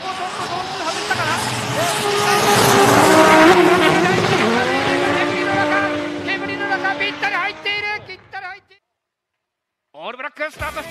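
Drift cars battle at a D1GP event, engines roaring loudly with squealing tyres as they slide together, the noise building then fading away before a brief silence and a short return near the end, under excited commentary.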